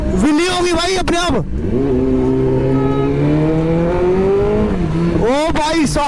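A BMW S1000RR motorcycle engine revs hard during a ride, climbing in loud bursts at the start and end with a sustained steady drone between, close and dominant over the whole stretch.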